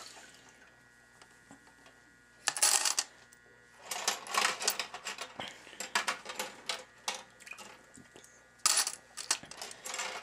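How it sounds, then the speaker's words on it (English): Small metal items are dropped into the basket of an ultrasonic cleaner, producing bursts of clinking, rattling metallic clicks, loud and close, between quieter pauses. "So the basket that come out, I'm going to put them all in it."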